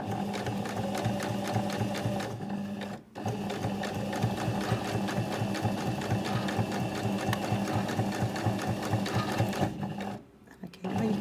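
Sewing machine stitching a twin needle hem on stretchy fabric, a fast even mechanical chatter running close and continuous, broken by two short pauses.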